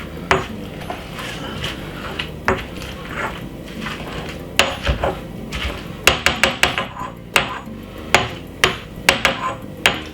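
Garlic being mashed with a kitchen tool while preparing oven-baked jerk pork, heard as irregular sharp knocks and thuds against a hard surface that grow denser and louder in the second half, over a faint kitchen background.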